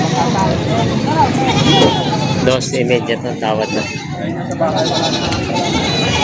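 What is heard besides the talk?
goats bleating at livestock market, Padre Garcia, Batangas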